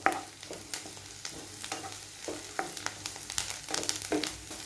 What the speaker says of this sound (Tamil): இஞ்சி பூண்டு விழுதோட பச்சை வாசனை போகிற அளவுக்கு வதக்கிக்குவோம்.